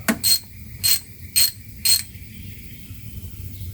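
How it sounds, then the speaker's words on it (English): Four rhythmic ratchet clicks, each a short burst of rapid pawl ticking, as a wrench turns a head stud nut on a 12-valve Cummins diesel engine, close and loud, followed by quiet shop room tone. "we're going to go a 1/2 turn with the ratchet"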